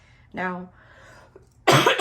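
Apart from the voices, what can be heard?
cough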